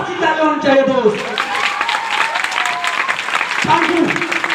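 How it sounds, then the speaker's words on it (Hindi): Audience applause fills the room at a live talk, a steady wash of clapping that runs the whole way through, with a man's speech over it near the start and again near the end. "सभी लोग एक शानदार सी ताली होनी चाहिए दोस्त"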